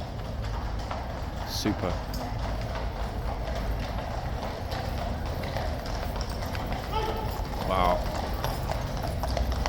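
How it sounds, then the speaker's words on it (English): Horse hooves clip-clop steadily in the Horse Guards yard, a continuous rhythmic clatter near the listener over outdoor ambience, with a person briefly speaking over it. "Clip clop, clip clop."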